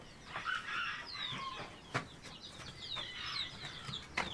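Hens and roosters clucking and calling nearby, with overlapping squawks and a few sharp louder cries over a low, constant background.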